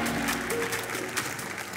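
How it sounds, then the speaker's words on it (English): A conference audience applauds the speakers, a brief, steady wash of many hands clapping at moderate loudness. "please give them a big, warm round of applause"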